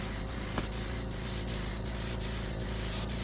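A steady close hiss of Rust-Oleum chalk paint being sprayed onto a Drexel dresser, continuous and fairly loud, with faint regular ticks under it.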